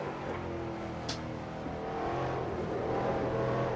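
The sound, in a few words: race car heavy braking and downshifting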